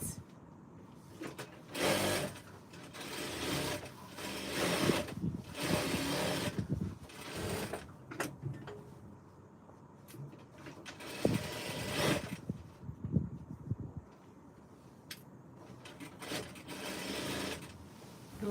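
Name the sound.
sewing machine stitching party dress fabric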